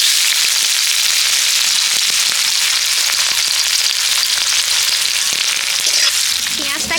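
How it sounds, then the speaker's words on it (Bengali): Onions frying in oil left from frying dried chillies, with a loud, close, crackling sizzle full of rapid spits and pops that runs steadily throughout, with no talk. "এবার ওই তেলেই আমি পেঁয়াজ ভেজে নেব।"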